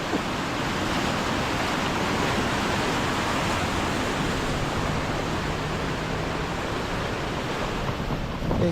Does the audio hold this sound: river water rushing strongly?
yes